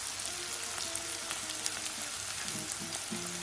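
Chopped shallots frying in oil, a steady close crackling sizzle with fine popping throughout, alone and moderately quiet.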